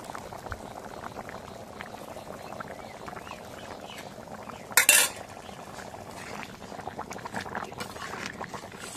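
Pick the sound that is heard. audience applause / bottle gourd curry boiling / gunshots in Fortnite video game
bottle gourd curry boiling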